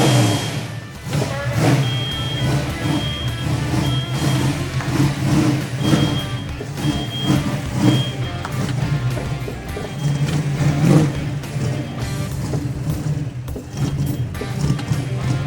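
A 1972 Dodge Dart's engine idles and revs outdoors, running on bad fuel, with a steady loud mid-range rumble and periodic throttle blips throughout.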